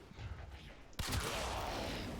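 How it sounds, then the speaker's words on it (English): Quiet rumble, then a sudden loud burst of explosive blasts and rapid gunfire in the game Warframe that continues densely to the end. "Explosions."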